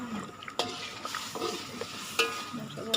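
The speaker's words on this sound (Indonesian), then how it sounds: "sambil kita terus mengaduk ya teman-teman, agar di bawahnya itu tidak gosong" A spoon stirs a pot of Manado porridge (tinutuan) with pumpkin as it cooks toward a boil, giving repeated scraping and clinking strokes against the pot over a soft bubbling sizzle, close up with no speech.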